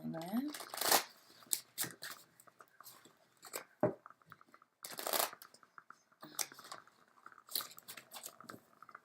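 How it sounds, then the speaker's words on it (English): Tarot cards shuffled by hand at close range, a series of brief riffling and slapping bursts separated by quiet gaps, with soft speech in between. "That wasn't a very good shuffle."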